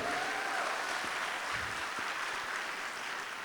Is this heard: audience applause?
yes